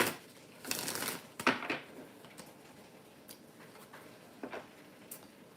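Quiet riffling and slapping of tarot cards in a few short bursts, with soft taps and pauses between, no talking.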